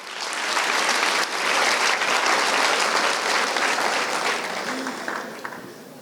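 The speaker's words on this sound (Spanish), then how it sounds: "Le das un aplauso al Dios que no produce miedo." A church congregation applauds during a sermon, a dense, steady wash of many hands clapping for several seconds, loud and close, easing slightly toward the end.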